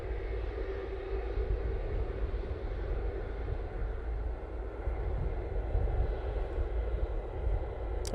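Air Transat airliner taking off at Manchester Airport, a steady broadband engine roar holding fairly constant throughout with no voices over it.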